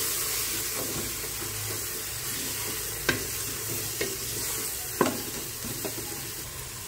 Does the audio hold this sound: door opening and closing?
no